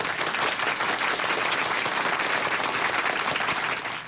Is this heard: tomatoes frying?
no